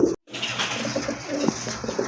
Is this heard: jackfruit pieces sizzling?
no